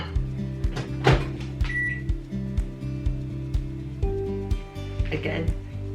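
A microwave oven hums steadily while heating a mug quiche covered in cling film, a low, even drone with a few faint clicks and a brief beep-like tone.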